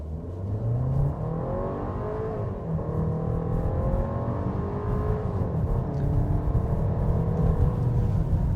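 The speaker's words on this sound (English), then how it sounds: "we're going to try another 0 to 60 run here, but this time I'm not going to brake torque it." A 2026 Volkswagen Tiguan Turbo in sport drive mode accelerates hard from a standstill on a straight stretch in a 0 to 60 run, its engine droning and rising in pitch through several gear changes, heard steadily from inside the cabin.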